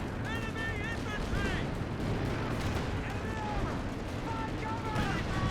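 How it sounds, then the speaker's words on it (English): Grenades explode amid continuous rumbling artillery and gunfire in a Company of Heroes 2 battle, a dense loud wartime din with whistling tones overhead. "Grenades being thrown."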